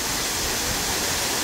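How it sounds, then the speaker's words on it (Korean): Suok Waterfall, about 20 m high, pours down a rock wall onto bedrock, heard as a steady, dense roar of falling water without any voices. "거대한 폭포가 위에서 떨어지고 있습니다."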